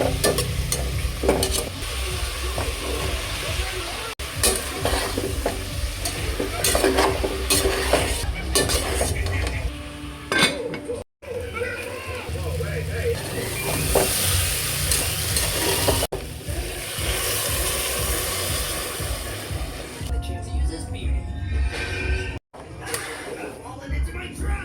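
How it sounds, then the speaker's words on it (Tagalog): Steady, loud sizzling of vegetables frying in a pan fills the whole stretch, with occasional stirring scrapes and a couple of brief cuts. "Kini na pong utan ang atong pritohon."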